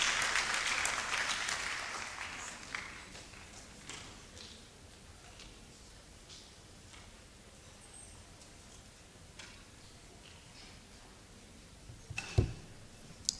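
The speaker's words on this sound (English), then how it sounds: "Please, a round of applause." An audience applauds at a university faculty ceremony in Ghana: a loud burst of clapping that fades over a few seconds into a quiet room, with a few scattered knocks near the end.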